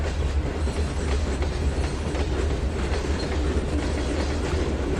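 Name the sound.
train rolling on rails, video game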